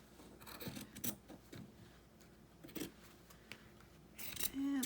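Scissors snip through paper while a journal cover is being made, giving several short, quiet rasping cuts spread across the stretch, with a slightly louder burst at the end.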